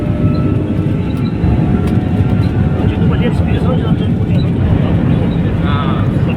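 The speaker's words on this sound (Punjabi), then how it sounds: "ਜਹਾਜ਼ ਚੱਲ ਪਿਆ ਪੂਰਾ ਤੇਜ਼" A passenger airplane departing Malaysia for India accelerates down the runway for takeoff, heard from inside the cabin as a loud, steady roar and rumble that builds with a rising engine whine near the end.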